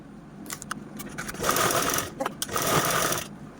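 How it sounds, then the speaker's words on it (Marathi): A sewing machine stitches a reused shopping bag in short bursts, starting and stopping with brief runs of rapid needle clatter that grow steadier and louder toward the end, close to the microphone. "आता एवढा भाग आपल्याला स्टिच करून घ्यायचा आहे"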